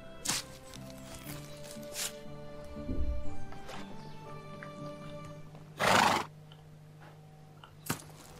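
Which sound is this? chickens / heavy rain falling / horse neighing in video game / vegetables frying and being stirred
horse neighing in video game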